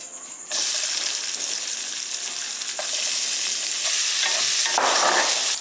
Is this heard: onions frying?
yes